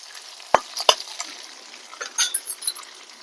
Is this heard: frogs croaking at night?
no